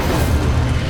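Incendio fire spell from Hogwarts Legacy in the Forbidden Forest, heard as a short, loud, rumbling whoosh of low booming energy that holds steady throughout, close up.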